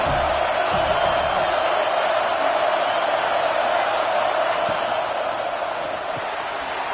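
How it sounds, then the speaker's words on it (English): A dense, steady roar of a football stadium crowd fills the whole stretch at high volume, a continuous wash of cheering and noise with no distinct breaks. "This crowd ready to make its presence known."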